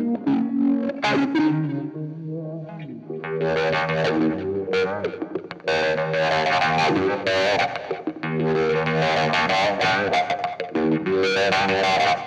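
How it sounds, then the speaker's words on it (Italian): Electric guitar played through a Univibe modulation effect with a wah-wah pedal engaged, giving a loud, distorted, swirling tone with sustained chords and bursts of notes running continuously. "Questo è l'Univibe. Col wah wah acceso"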